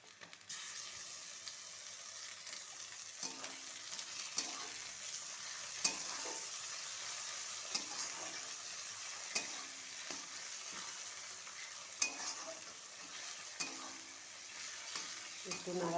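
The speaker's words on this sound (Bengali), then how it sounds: "একটু নাড়াচাড়া করে নেব।" Chopped tomatoes and fried onions for spiced ghugni sizzle steadily in a pan, with repeated scraping stirs and clinks of a spatula over sixteen seconds; no voices.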